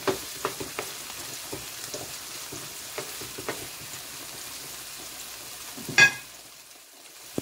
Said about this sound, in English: I'm sauteing my onions, scallion, sweet peppers,